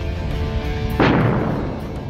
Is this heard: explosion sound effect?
yes